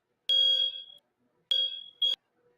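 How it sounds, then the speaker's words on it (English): A fire alarm sounding in an apartment complex gives shrill electronic beeps, one long tone, then a second long tone and a short chirp, loud and clear against silence. "looks like we got Ralph with a little fire alarm"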